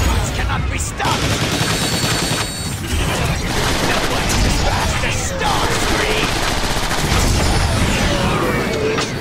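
Gunfire rattles through a loud, chaotic battle in the Transformers: War for Cybertron video game, with continuous automatic bursts and mechanical clanks. A voice can be heard talking through the din.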